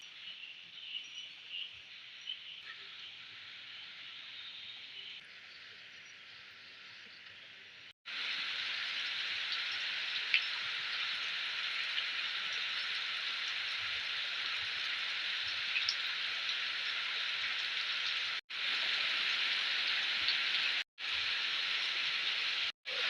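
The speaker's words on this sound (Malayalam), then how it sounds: "നല്ല മഴ പെയ്യുന്നുണ്ട് നല്ല സൗണ്ട് ഉണ്ട് മഴയുടെ" Heavy rain pours down in a dense, even hiss with no talking, cutting out briefly a few times.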